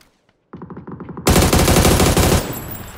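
Video game machine gun fire: a short burst of rapid shots begins after a quiet moment, then a louder, denser sustained volley roars close and harsh before easing slightly at the end.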